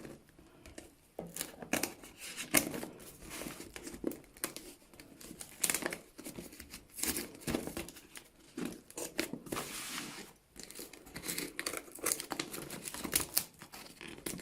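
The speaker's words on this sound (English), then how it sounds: "Just unpack things nice and slow here. There's a little bit more tape on the other side." Art brushes wrapped in tape are unpacked slowly, producing close, irregular bursts of crinkling, peeling and tearing tape and wrapping, faint and scattered throughout without talk.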